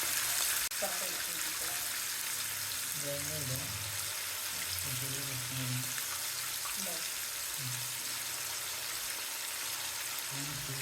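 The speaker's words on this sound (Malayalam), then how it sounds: "ഇപ്പൊ എണ്ണ നന്നായി ചൂടായപ്പോ ഞാനിങ്ങനെ ചിക്കൻ ഓരോന്നായിട്ട് ഇങ്ങനെ നിരത്തി വെച്ച് കൊടുക്കുന്നുണ്ട്." Chicken pieces laid one by one into hot oil to shallow fry for biryani, giving a continuous soft sizzle under a voice talking throughout.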